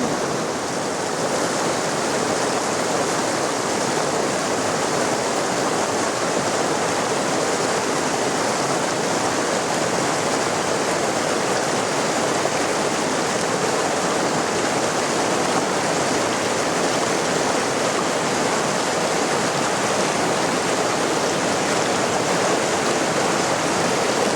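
River rapids flow during a river crossing, making a steady, full rushing roar of churning water that stays constant and close throughout, with no voices.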